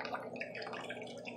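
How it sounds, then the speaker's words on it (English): A small pump in a cheap homemade bait tank pushes water through an extended pipe, a faint steady trickling and bubbling splash of circulating water with no voices. "it is pumping water through there"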